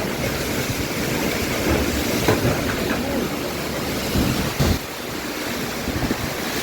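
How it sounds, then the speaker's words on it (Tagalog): Strong wind with heavy rain roars and buffets the microphone with a steady rushing noise, occasional thumps breaking through the dense, continuous blast. "Yan, pumapasok ng hangin."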